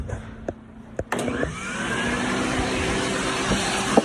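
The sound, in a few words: vacuum cleaner vacuuming PS5 console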